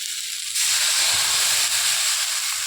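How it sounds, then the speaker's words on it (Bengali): Water hits a hot kadai of fried mango and sweet potato, setting off a sudden loud, sustained hiss of steam that carries on without letup. "এবার এর মধ্যে জল দিয়ে দেবো"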